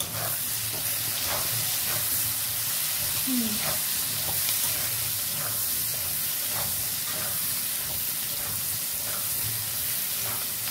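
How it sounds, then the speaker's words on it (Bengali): Potato pieces fry in hot oil for a prawn and loti curry, making a steady, continuous sizzle and hiss, with faint scrapes and knocks as they are stirred. "এবার এর মধ্যেই টুকরো করে রাখা আলুগুলো একে একে তেলের মধ্যে দিয়ে ভালো করে নাড়াচাড়া করে নেব।"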